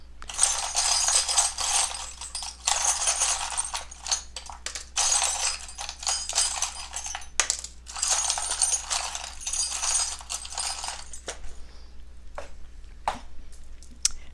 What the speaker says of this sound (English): I just shuffle and shuffle and shuffle until I just grab however many charms